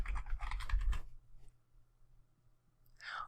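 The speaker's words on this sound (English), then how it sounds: "Let's just type in the word fitness" Rapid keyboard typing of a single short word, a dense burst of clicks lasting about a second, then near silence with faint hum.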